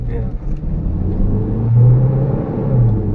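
A Toyota Fortuner SUV accelerates hard, its engine a deep, swelling rumble heard from inside the cabin, with people talking over it.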